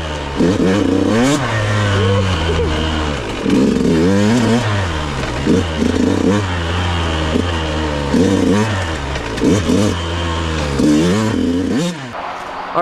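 A dirt bike engine running on race fuel revs hard and loud close by, its pitch sweeping up and down in repeated throttle blips, with a brief spoken word over it.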